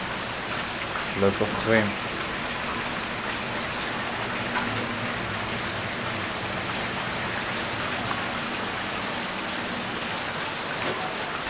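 Rain falls steadily on surfaces outdoors in April, a constant hiss from start to end, with a brief voice speaking near the start.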